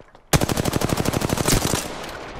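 A sustained burst of rapid automatic gunfire in the Apex Legends battle royale game, roughly twenty close, loud shots in quick even succession that fade into a short echoing tail.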